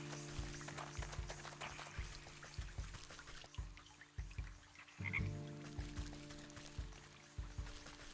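A frog croaks repeatedly in the video game Wytchwood, low rhythmic croaks pulsing about once a second over soft trickling ambience.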